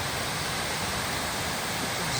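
Steady broadband rush of water pouring over the waterfall at Ball's Falls, a continuous outdoor roar heard close and alone, with no voices.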